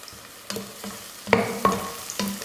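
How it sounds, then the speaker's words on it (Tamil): Sliced onion and green chillies sautéing in oil for chicken biryani, a low sizzle punctuated by four or five distinct spoon scrapes and taps against the pan. "இது நல்லா பொன்னிறமாக வதங்கட்டும்."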